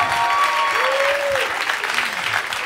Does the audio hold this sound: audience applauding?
yes